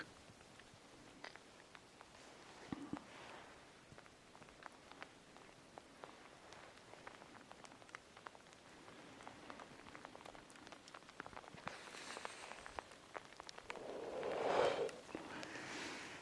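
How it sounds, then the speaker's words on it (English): Light rain mixed with sleet falls outdoors in a yard with two tipis in late October, a soft steady patter of drops on surfaces throughout, faint and close, with a few brief louder rustles. "it's now more of a rain, or drops of rain, sleet"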